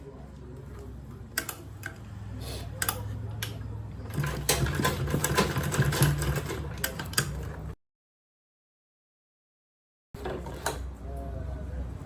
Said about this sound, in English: This is the final stitch. I'm just going to back stitch here.